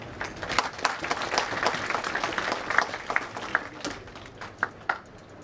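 Crowd applause at a cycling road tournament prize distribution, a continuous wash of clapping with a few sharper individual claps standing out near the end.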